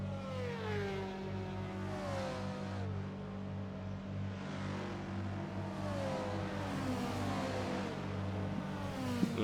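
Several race cars in a racing video game pull out of the pits together, their overlapping engine whines rising and falling in pitch as they rev, forming a steady, continuous drone with no talking.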